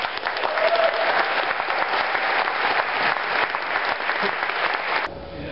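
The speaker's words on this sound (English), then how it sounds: "give give give the people with the, the media here a round of applause" An audience at a Winter Soldier veterans' hearing in Austin, Texas breaks into loud, sustained applause that fills the room for about five seconds and then cuts off abruptly.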